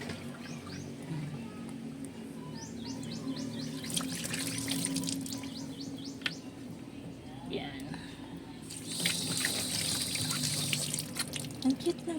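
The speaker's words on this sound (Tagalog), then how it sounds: "dire-diretso yung tubig niya" Tap water pours steadily through a kitchen soap holder into a sink, a continuous splashing stream with brief clatters as it runs.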